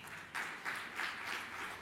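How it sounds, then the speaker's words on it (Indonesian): Church congregation applauding in a sermon setting, a steady wash of clapping with a few swells, moderately distant and fairly quiet. "Tepuk tangan yang meriah."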